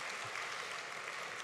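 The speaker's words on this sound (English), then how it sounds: "let's give those from various countries on our continent who are here a round of applause" Dense, steady applause fills a gala dinner hall as guests from countries across the continent are recognised, a continuous wash of many hands clapping.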